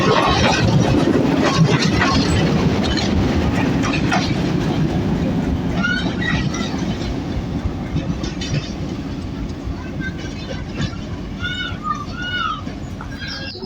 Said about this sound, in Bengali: এটা টুঙ্গিপাড়া এক্সপ্রেস ট্রেনটির পাওয়ার ইঞ্জিন